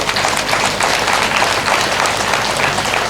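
An audience at a temple consecration debate event breaks into sustained applause, a dense, loud wash of many hands clapping steadily for several seconds with no speech over it.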